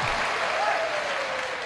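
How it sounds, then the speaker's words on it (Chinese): A theatre audience at a crosstalk comedy show gives dense, sustained applause, a thick steady wash of many hands clapping at once. "这么热烈的掌声都是给您李建华先生鼓的掌。"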